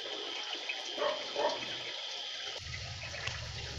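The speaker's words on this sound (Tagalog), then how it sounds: "lilinisan pa rin natin yan doon sa ating tubig gripo or nawasa" Tap water running and splashing close by while daphnia are rinsed, a steady faint rush with a few louder gurgles and a change in flow near the end.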